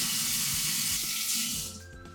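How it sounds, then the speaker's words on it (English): Cold tap water runs steadily into a jar, a continuous close splashing rush that eases off near the end as the flow stops. "The first step is to fill your jar with cold water, stopping just before you get to the top."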